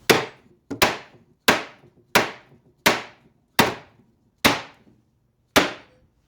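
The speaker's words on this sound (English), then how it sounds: "Here we're going to need a heavier hammer." A hammer knocks the top off a wooden 1951 H.C. Evans Pushover pinball cabinet: eight sharp, close, resonant wooden whacks at a steady pace, each ringing out briefly before the next.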